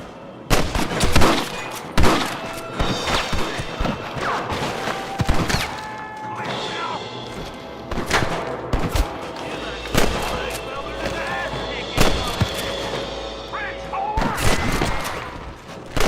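Rapid gunfire crackles throughout a Red Dead Redemption shootout, with dense bursts of shots, some near and loud, others scattered, mixed with voices and game sounds.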